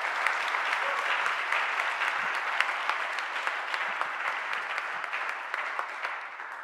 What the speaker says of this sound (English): can we get one more round of applause for all of our finalists?